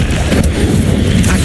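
An Incendio fire spell is cast in Hogwarts Legacy, a loud, dense booming whoosh of flame that rumbles steadily through the whole short burst.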